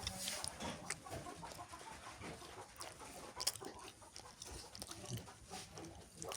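Farm hens clucking intermittently in a low, faint rural yard scene, with scattered soft bird calls and background noise, no clear speech.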